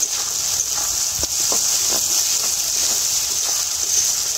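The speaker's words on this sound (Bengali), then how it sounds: "আদা আর রসুন 2 মিনিট খুব ভালো করে ভেজে নেব।" Ginger and garlic paste frying in a pan for a fish curry, giving a steady, close hiss and sizzle throughout with a few soft crackles and no talk.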